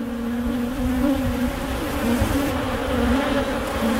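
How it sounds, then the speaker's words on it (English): Honeybees hum in a steady, dense drone inside a hive around their queen, a continuous close buzzing that stays even in loudness throughout with no voices. "nurse bees and worker bees trapped in there with her"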